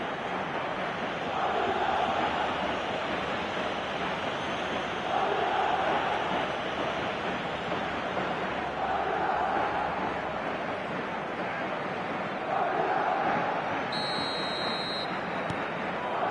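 Stadium crowd noise in the FC 26 football video game, a continuous broad roar that swells and fades every few seconds, with a faint electronic tone near the end.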